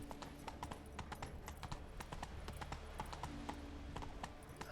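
Hooves of Roach, Geralt's horse in The Witcher 3, clip-clop in a steady rhythmic gallop on the ground, loud and close, each strike a sharp knock over a constant game background.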